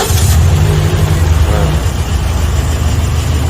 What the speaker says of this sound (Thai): เราจะสตาร์ทเครื่องชมกันก่อนนะครับ สตาร์ท